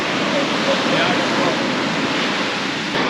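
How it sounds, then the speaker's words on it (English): Rough sea surf on a beach at Búzios, Rio de Janeiro, heard as a loud, continuous wash of crashing waves filling the whole stretch with no pause or talk. "the water is really rough"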